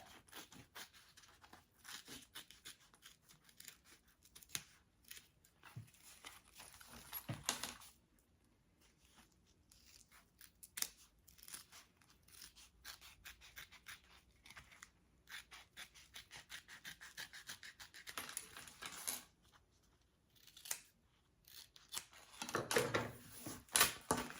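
Scissors trim the fabric seam of a zipper pouch in close, faint snips and rustling cuts, irregular clusters with quiet pauses between.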